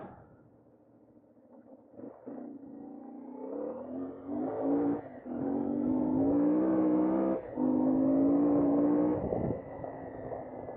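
A CFMOTO 450 Ibex adventure motorcycle in off-road mode revs hard to spin its rear tire, its engine note climbing and holding in loud sustained bursts with brief throttle dips between, close and alone.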